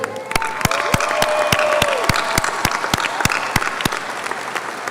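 A graduating crowd of high school students and families applauds at a commencement ceremony, steady dense clapping with sharp individual claps standing out, a faint tone hovering beneath the sustained ovation.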